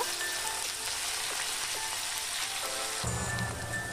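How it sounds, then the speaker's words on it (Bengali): Chopped onions sizzle steadily in hot oil in a pan on a gas stove, a dense close crackle that swells louder near the end, with no voices. "এবার গ্যাসের মধ্যে একটা প্যান বসিয়ে দিয়ে হিট হয়ে আসলে পরিমাণ মতো আমি তেল দিয়ে দেব, আর 2টো পেঁয়াজ কুচি"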